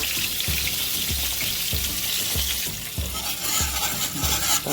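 Grits and cut-up cheese are stirred in a Lodge 10.5-inch cast iron Dutch oven over a steady sizzle. A spoon scrapes the pot in a regular rhythm, about twice a second, close up.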